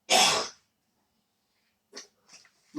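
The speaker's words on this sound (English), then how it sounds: "excuse me, I've got a bad cough." A person clears their throat with one loud, harsh burst, then after a pause gives a few short, rough coughs that are quieter and spaced apart, close to the microphone.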